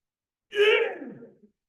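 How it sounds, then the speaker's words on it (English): A single slow, audible inhaled breath is taken during a breathing exercise. The airy, voiced intake lasts about a second, is close and fairly loud, and fades out in otherwise complete silence. "Let's see if you can work with your breathing. Breathing in,"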